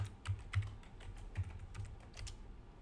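Keystrokes on a computer keyboard as a password is entered in a terminal, a quick irregular run of soft, close clicks in a quiet room with no talking.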